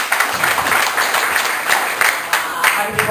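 An audience at a stand-up comedy show in a coffee shop claps loudly and close by, a burst of dense applause with a few louder swells, mixed with crowd murmur.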